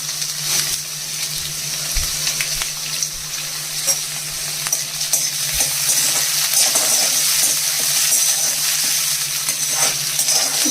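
Crushed dried red chillies frying in hot oil, a steady dense sizzle with crackles and occasional stirring clinks, close and continuous throughout.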